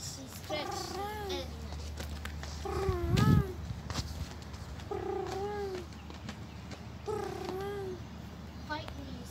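A cat under a car meows repeatedly, several drawn-out rising-and-falling cries spaced a couple of seconds apart over a low background rumble.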